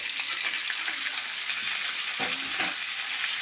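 Curry leaves and green chilies crackle and sizzle in hot coconut oil for a Kerala chicken kurma, a steady close frying hiss with a few soft stirring knocks partway through.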